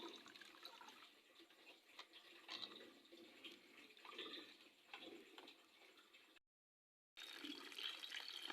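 A small homemade 6-volt aquarium water pump running, with faint water gurgling and splashing plus a light mechanical ticking, interrupted by a brief silent gap.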